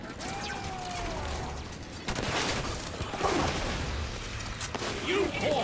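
Sustained gunfire from the video game Halo 5: Guardians during a Legendary campaign firefight, a dense continuous rattle of shots with sharp energy bursts, steady and loud throughout.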